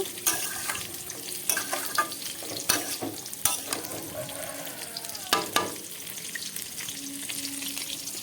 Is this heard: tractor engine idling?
no